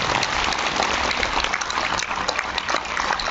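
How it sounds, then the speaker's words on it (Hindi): Loud applause from a crowd at a motivational event honoring a guest, continuous dense clapping with scattered sharper individual claps standing out, slightly muffled in tone. "जोरदार तालियों से।"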